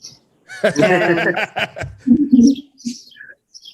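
A bird calls outdoors in short chirps that come up between and under people's talking and chuckling nearby.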